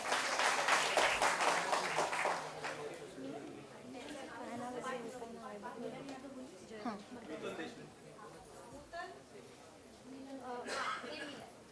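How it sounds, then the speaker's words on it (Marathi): Audience applause at a Vishwakarma honours ceremony, loud crackling clapping in the opening seconds that fades into crowd chatter and a speaking voice, with a brief renewed burst of clapping near the end. "एकदा जोरात टाळ्या सगळ्यांनी."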